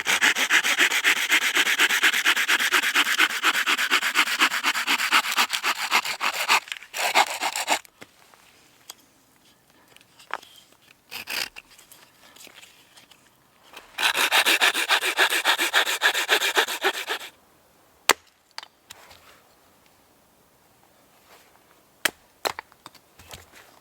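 Sticks being sawn to length for a wood camp stove: two long bursts of rapid, rasping back-and-forth strokes, close and loud, with a quiet gap of small knocks and handling noises between them.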